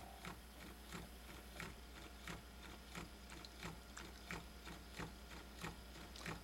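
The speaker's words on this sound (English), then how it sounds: "So we'll turn up the voltage to the drive motor and we'll see the effect." The small drive motor of a homemade magnetic field shaping generator runs with a faint, regular mechanical ticking, about three clicks a second over a low hum, quiet and close with no voices.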